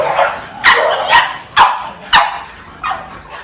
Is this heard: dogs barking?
yes